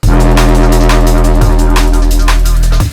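A loud, heavy drum and bass synth bass plays sustained low notes, its tone wobbling through a chorus effect, with a couple of sharp note changes and bright percussive hits on top.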